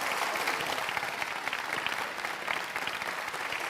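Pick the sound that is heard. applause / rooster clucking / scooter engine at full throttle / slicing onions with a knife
applause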